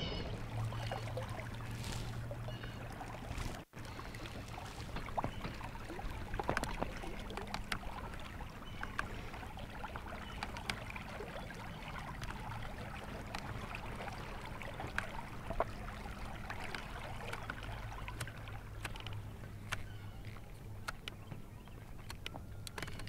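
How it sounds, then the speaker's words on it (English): Water churns steadily beneath a moving Intex Excursion boat travelling slowly, at about 3 miles an hour, in a quiet, faint, continuous wash with a low motor hum and occasional small splashes. "You hear the churning of the water"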